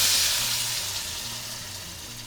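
Steady bubbling hiss of water boiling with pasta in a pan, fairly close and continuous, with a faint low hum underneath and no talking.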